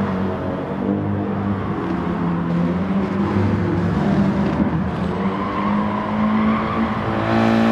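Race cars in an Audi TT Cup race roar steadily on a circuit, engines droning loud and continuous with tyre noise, no talk.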